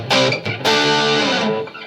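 Distorted electric guitar played on the bridge single-coil pickup through a small Vox amp: a loud, throaty chord rings, a quick re-strike follows, then a long sustained chord fades out. No one speaks over it.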